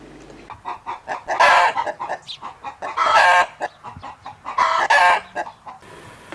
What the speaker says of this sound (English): it was fine to hear the hen cackling after she had laid her eggs.